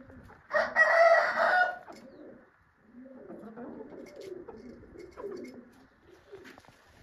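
A rooster crows once, loud and close, followed by softer clucking and low bird chatter in the background.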